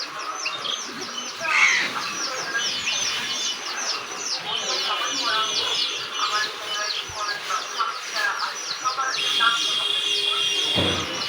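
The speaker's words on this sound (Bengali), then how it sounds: "এই একজোড়া এই শয়তান কবুতর সবগুলোকে বাইরে রাখে।" A flock of pigeons on a farm, a busy mix of soft cooing and chirping calls that layer continuously at moderate distance, with some background voices and farm noise.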